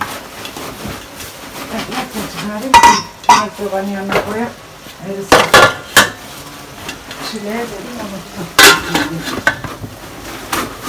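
A metal spoon and pot lid knock and scrape against a cooking pot at a wood-fire village kitchen, several sharp clanks scattered over the clip while people talk throughout.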